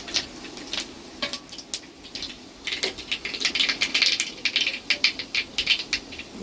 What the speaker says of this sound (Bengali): এবারে সরষা একটু ফোড়ন দিলাম